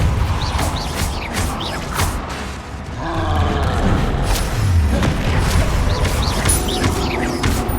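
The Confringo blasting spell in Hogwarts Legacy goes off in loud booming blasts amid crashing combat noise, a rapid series of sharp hits with a fuller rumbling burst midway.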